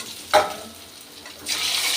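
Fish sizzles and crackles in hot oil with a steady frying hiss, a brief clatter early on, and the sizzle surging louder near the end.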